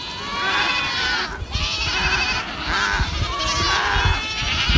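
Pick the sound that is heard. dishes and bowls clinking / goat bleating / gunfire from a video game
goat bleating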